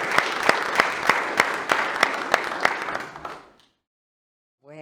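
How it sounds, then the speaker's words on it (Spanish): Audience applause for a presenter at a talk on the Teno massif, dense clapping with a few sharp louder claps for about three seconds before fading into silence, then a voice begins. "Un aplauso para José"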